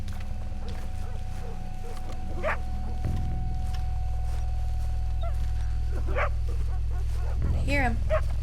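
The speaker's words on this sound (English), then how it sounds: "Doggy, where are you? Quit barking." Dog barking in the Red Dead Redemption 2 game world, a few short yips and barks at mid distance over a steady low ambient hum, with a person talking around them.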